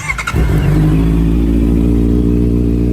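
A 2022 Honda CBR650R motorcycle engine fires up and settles into a steady, loud, close rumble with a throaty idle, with no talking.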